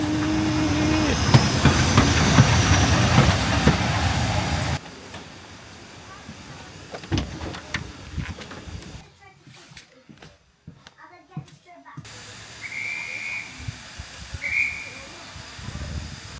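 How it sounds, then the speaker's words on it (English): Steam train pulling away, loud hissing steam rushing at first, then quieter rumbling carriage noise with clanks and two brief whistle tones near the end, voices talking over parts. "And then we were away, steam filling the sky"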